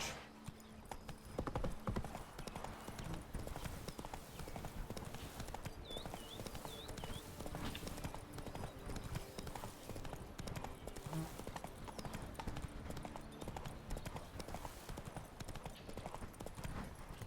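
Roach, the horse in the video game Witcher 3, gallops with a steady, close clip-clop of hooves running throughout, with brief whinnies and game ambience underneath.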